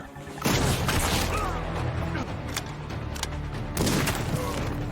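Gunfire in an action film as snipers of an elite team take down guards at an enemy base: a dense burst of shots and booms near the start, steady rumbling mechanical noise throughout, another burst toward the end.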